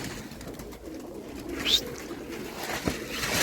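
Pigeons coo in low, throaty murmurs against a noisy background, with a faint higher call and a few soft knocks.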